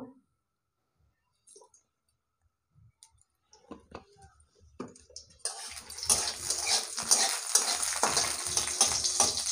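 A wok with a dried chili in it is quiet apart from a few scattered clicks and taps. Then oil goes in and a loud, bright sizzle bursts up and keeps crackling steadily nearby.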